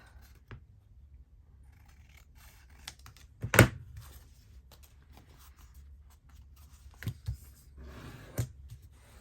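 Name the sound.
scissors trimming paper for Easter tags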